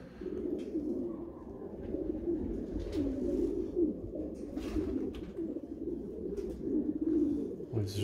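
Pigeons coo steadily at a pigeon loft on a farm, a continuous soft murmuring chorus of many birds close by, with occasional wing flaps and small knocks and no talking.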